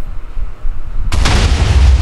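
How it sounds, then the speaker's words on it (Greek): A Minecraft TNT block exploding: a quiet murmur is broken by a sudden loud, close boom that rolls on as a dense, roaring blast for the final second. "Απλά κάνει μια πολύ μεγάλη έκρηξη."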